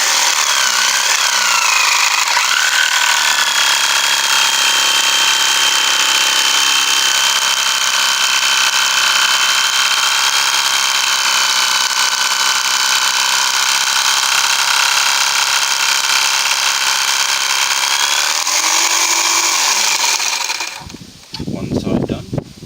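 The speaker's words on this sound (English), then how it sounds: "And we put our jigsaw into the hole," A power jigsaw cuts wood for a telephone jack hole on a module, a loud steady buzzing whine for about twenty seconds that stops abruptly at the end.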